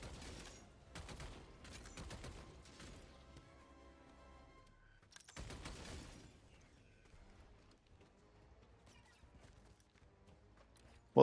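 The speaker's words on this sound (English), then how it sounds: "Well, they're shooting at me." Enemies fire guns at the player in a video game, heard as two rapid bursts of sharp, crackling shots near the start and middle, with quieter scattered reports and gaps between them.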